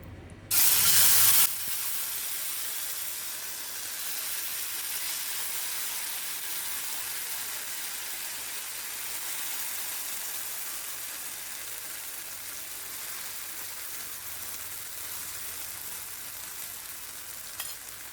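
Semolina batter hits a greased hot pan with a sudden loud burst of sizzling, then settles into a steady, close hiss that carries on alone.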